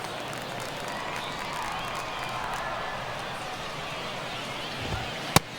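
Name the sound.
baseball stadium crowd in the 9th inning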